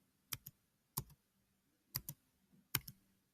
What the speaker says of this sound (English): I'm going to type in that whole number.